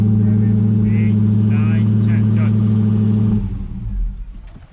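A 2019 Dodge Charger Hellcat engine running on E85 idles with a deep, loud burble close by, then cuts off abruptly, leaving a faint fading rumble; someone speaks over it.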